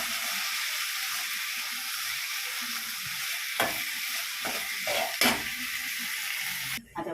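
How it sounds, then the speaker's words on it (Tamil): Rock salt hits a hot pan of frying ingredients, which sizzle loudly and steadily up close, broken by a few brief scrapes and clatters of stirring near the end. "நல்லா கல் உப்பு போட்டுட்டு நல்லா வதக்கிடலாம்"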